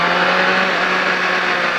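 A racing motorcycle at a rider school on a track holds a loud, steady engine note as it leans through a corner, close and continuous throughout.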